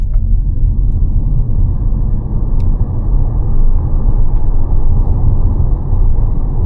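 A 2025 Mazda 6e electric sedan, which may be a range-extender, launched at full throttle without launch control: a steady low road rumble and drivetrain hum from inside the cabin, continuous and fairly loud, with no talking.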